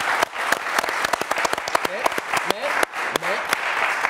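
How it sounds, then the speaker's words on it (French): Studio audience applauding for former footballer Maxime Gonalons on a French talk show, steady dense clapping throughout with a few voices calling out over it. "J'ai envie qu'on l'applaudisse."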